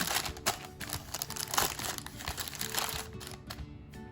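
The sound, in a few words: dough dropped into parchment-lined tin, paper crinkling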